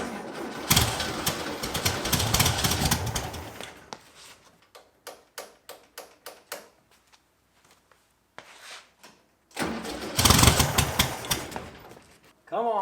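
A bagged 1960 BMW 700 with a swapped-in 1600cc engine cranks over in loud, rough bursts, separated by a quieter stretch of rapid, even ticking.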